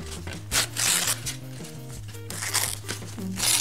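A paper coffee filter is torn by hand in several short, crisp ripping bursts over a steady musical background.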